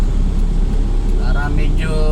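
Car creeping along in heavy, slow-moving traffic in the Philippines, a steady engine and road rumble filling the cabin, with faint horn-like tones near the end and voices under it.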